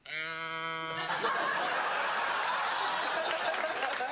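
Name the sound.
man imitating a duck, sounding like mooing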